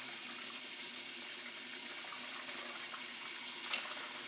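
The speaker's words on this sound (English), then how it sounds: "I'm going to take my stock, pour it into this bowl" A steady stream of stock is poured into a bowl, a continuous quiet liquid rush with a faint splashing trickle throughout.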